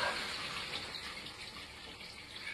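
A small cascade pours with a steady, continuous splashing rush of water, close and even throughout with no talk over it.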